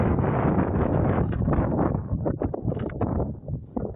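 Steady, loud wind buffets an outdoor microphone while a drone is flown nearby, a continuous broadband rush that eases slightly midway then gusts back up in uneven pulses.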